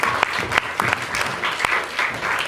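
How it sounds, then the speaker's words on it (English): Audience applause in a short burst, close and fairly loud, with a few sharper individual claps standing out from the steady patter. "Round of applause."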